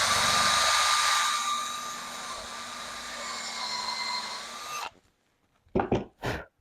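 A power drill bores steadily into a wooden guitar neck heel for a neck joint, a loud continuous whine that stops abruptly, then a few short handling knocks.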